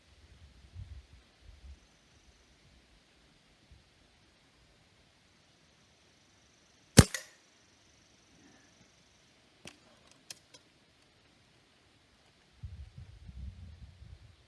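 A Stoeger A30 air rifle fires a single Gamo Match pellet with one sharp, loud crack in near silence, followed by a couple of faint mechanical clicks and light handling rustles.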